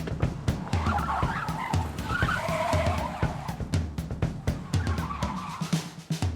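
In a chase, a car skids with loud tire squeal over a roaring engine, punctuated by repeated sharp knocks and scrapes throughout.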